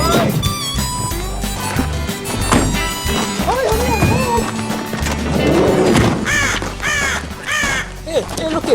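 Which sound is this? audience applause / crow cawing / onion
crow cawing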